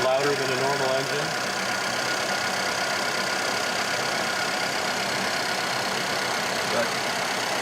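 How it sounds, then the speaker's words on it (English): A police-auction Charger or Explorer engine idles steadily nearby, its direct injectors making a continuous, busy mechanical ticking clatter over the hum, unchanging throughout. "That little clatter is the direct injectors firing off."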